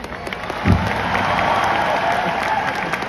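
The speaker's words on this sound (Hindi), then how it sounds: "उस पर्सन के लिए भी एक बार ताली बजा दो यार" Audience at a business success-day event breaks into applause, a steady wash of clapping with a brief thump near the start, fairly loud and continuous throughout.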